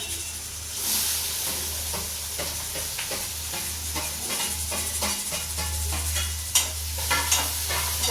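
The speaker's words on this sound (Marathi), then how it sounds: "कांदा चांगला परतून देते" Chopped onion sautéing in a pan while bread upma is made, a steady close sizzle with repeated scraping stirs of a spoon through it, with no voices.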